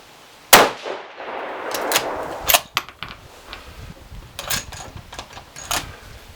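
A 6mm ARC rifle fires a single loud, sharp gunshot while being sighted in, followed by a ringing metallic clang and scattered clatter and movement noises outdoors.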